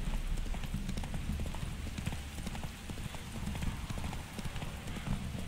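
Rhythmic hooves of the horse Roach clip-clopping at a steady gallop in The Witcher 3, loud and continuous across the whole stretch with game ambience beneath.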